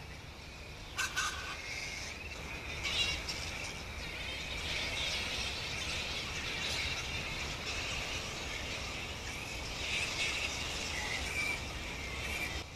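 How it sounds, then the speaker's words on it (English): Flying fox fruit bats screech and squabble in the treetops. Their shrill, dense chatter runs continuously and fairly loud across the whole stretch, with no voices. "Hopefully you can hear them screeching and carrying on too."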